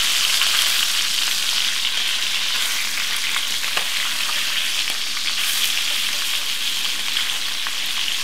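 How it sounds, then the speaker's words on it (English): A tuna roll sears in a hot pan, giving off a loud, steady hiss and crackling sizzle close up, with no voices. "I'm going to sear that fast on all sides."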